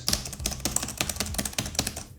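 Typing on the MSI GT77 Titan laptop keyboard, a quick, irregular run of close, crisp key clicks and taps with no voices.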